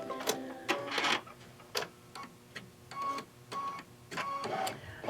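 An embroidery machine stitches a quilted basket held in its hoop, giving quiet bursts of rapid mechanical ticking and whirring in short, uneven runs with brief pauses between.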